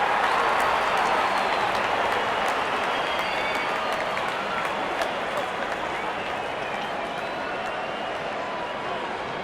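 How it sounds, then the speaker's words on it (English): Crowd cheering and applauding in the Real Cricket 24 video game, a loud, dense, continuous roar of clapping and voices that holds steady without breaks. "The crowd is enjoying every bit of this action."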